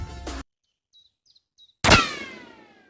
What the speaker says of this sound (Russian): Пуля прошла 10 сантиметров от микрофона.